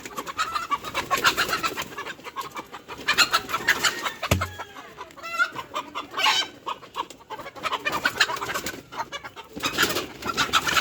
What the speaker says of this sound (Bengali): এগুলো হচ্ছে তিতির মুরগি।